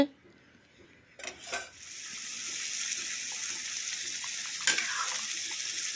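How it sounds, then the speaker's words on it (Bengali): Katla fish curry gravy with drumsticks and potato comes to a boil in a pot, a steady bubbling hiss that starts abruptly after a quiet moment and keeps going, with a brief clatter near the end. "দেখো মাছের ঝোলটা উতরান উঠে গেল।"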